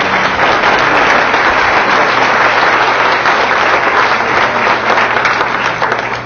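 Loud, dense applause from an audience at a candidate forum for a state assembly race, steady clapping that fills the room and holds throughout before easing at the end.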